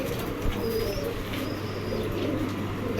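A female white racer pigeon coos in a low, steady, continuous tone through the short stretch, with faint chirps from other birds over a busy background hum.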